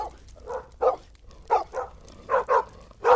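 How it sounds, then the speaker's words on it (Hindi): A cartoon dog shivering in the cold outside a doorway, giving a series of short whimpering yelps and barks in uneven clusters, close and fairly loud with no talk. "ठंड में कांपता हुआ एक कुत्ता उसके दरवाजे के बाहर आकर पूंछ हिलाते हुए काव काव करने"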